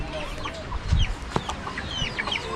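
A mother hen clucks close by in a series of short, irregular clucks and low throaty notes, with faint chirping from other birds in the background.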